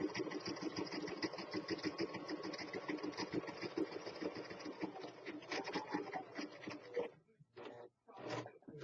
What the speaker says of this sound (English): my sewing machine has been said that it sounds like a diesel engine